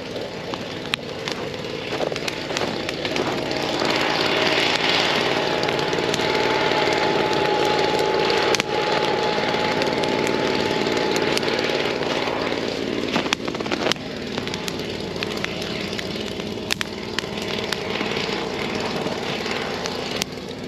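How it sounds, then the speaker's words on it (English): A steel-bodied leaf blower engine idles steadily at the base of an outdoor fire, a continuous close buzzing drone with small fluctuations and occasional clicks and knocks, without speech. "I got the steel leaf blower out. I just warmed it up and let it idle right in the base of the fire."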